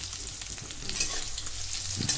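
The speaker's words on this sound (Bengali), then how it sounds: "এখন আমটা একটু নেড়ে চেড়ে হালকা করে ভেজে নেব" Raw mango pieces stirred and lightly fried in a pan for sour dal: a soft, steady sizzle with scraping stirs and a couple of sharper clinks of the spatula, close by and without speech.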